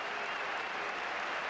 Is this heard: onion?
no